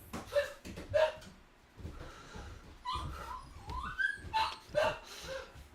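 A pet dog barks and whimpers in a home during a board game live-stream, with several sharp yips and whines spread across the clip, fairly close and mixed with background voices.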